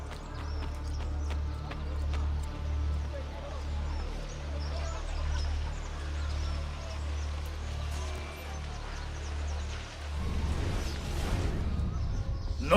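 A horse ridden through the streets in Assassin's Creed Brotherhood gives a steady rhythmic clip-clop of hooves under a low rumbling bed, with a voice talking over it before a brief scuffle of sound at the end.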